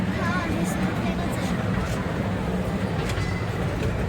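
A snow train ride inside Snow Abu Dhabi gives a continuous low rumble with faint rattling, and voices talk over it throughout.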